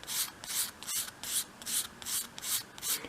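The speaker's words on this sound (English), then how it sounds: "just sweep the sandpaper along at a 45-degree" A thin strip for a 1/12th scale shop project is swept along sandpaper at an angle, giving a soft, rhythmic raspy rubbing in about eight even back-and-forth strokes, close and quiet with no talking.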